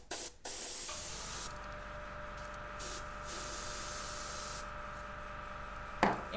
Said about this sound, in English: airbrush, see what that does when I put the torch on it.